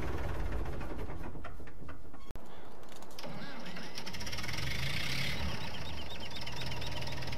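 A virtual IMT 560 DeLuxe tractor engine running in a farming simulator game, a steady mid-pitched diesel chug that drops out for an instant, then continues with a faint voice in the background.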